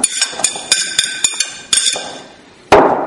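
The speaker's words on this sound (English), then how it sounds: "Now we'll cut the onions." A knife chops onions on a board in a series of sharp close thuds, a quick run of cuts followed by a brief pause and a louder final knock.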